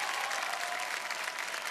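Studio audience applause on the Kaun Banega Crorepati game show: dense, even clapping from a crowd, sustained and steady at moderate volume for the whole short stretch.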